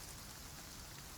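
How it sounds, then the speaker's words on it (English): Rain runs off the steep, sharply angled glass of a greenhouse propagation house in long sheets rather than drumming, a soft, steady, unbroken wash with no voices. "the rain runs off it in long sheets rather than drumming."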